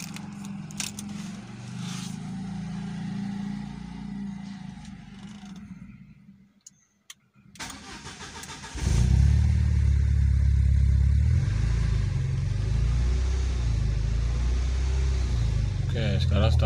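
A Peugeot 406 engine is cranked with a repaired starter motor, grinding briefly, pausing, then catching and settling into a loud, steady low idle close by, with people talking.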